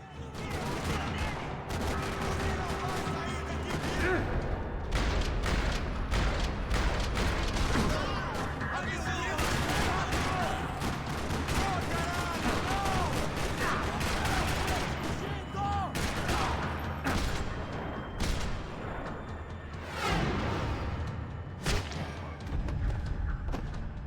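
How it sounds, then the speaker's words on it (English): Heavy, continuous gunfire in a parking lot in the video game Max Payne 3 crackles and booms in rapid bursts, layered with thuds and impacts, loud and relentless throughout. "Another parking lot rattling with gunfire."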